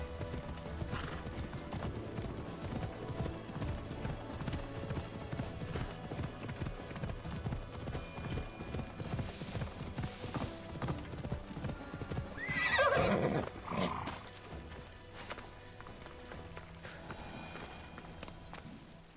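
A horse in Assassin's Creed Odyssey galloping in a quick, steady clip-clop rhythm, with a loud neigh partway through, then hoofbeats continuing more faintly.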